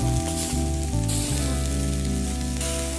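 Onions and tomatoes sizzle loudly in a frying pan. The steady, close crackle holds through the whole clip under a low background hum, and nobody talks.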